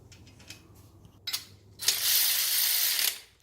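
Ratcheting clicks from a socket wrench snugging the bolts that hold the crankshaft into a 4G63 engine block, a short burst of close metallic ticks followed by a denser, louder ratcheting run lasting about a second and a half.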